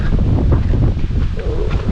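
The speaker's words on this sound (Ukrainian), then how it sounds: "Хмарно, холодно, вітряно." Strong wind on a cloudy, cold day in a farm field buffets the microphone with a constant low rumble and rustling, loud and close, with no voices.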